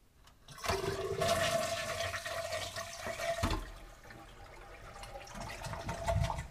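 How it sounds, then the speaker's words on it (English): Toilet fitted with a Fluidmaster Duoflush dual flush valve, flushed with the lever held down: a loud rushing gush of water that swirls on for several seconds and then eases into a gentler draining and refilling flow. "And if for some reason you want to flush even more water than a full flush, you can just keep holding the lever."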